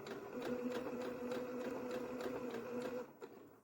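A domestic sewing machine stitches piping into a seam, a steady, fast motor whir with regular needle clatter running for about three seconds before stopping abruptly.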